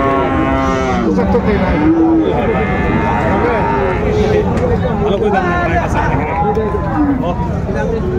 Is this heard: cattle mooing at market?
yes